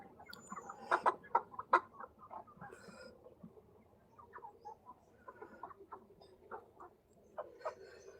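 Kuroiler chickens on a farm give off bursts of clucking and short calls, several birds close by with irregular peaks and quiet gaps between.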